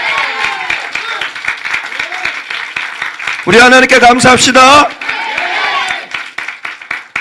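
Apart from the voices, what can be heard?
church congregation applauding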